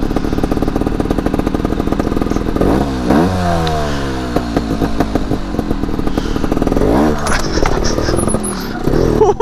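Trials motorcycle engine revving while riding outdoors, close and loud, with sharp rising and falling throttle blips, a sustained climbing rev in the middle and uneven popping idle between, wind noise throughout.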